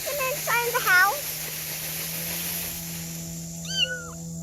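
An abandoned baby kitten lets out a few high, thin meows close by, a quick cluster early and another cry near the end, with a steady low hum underneath.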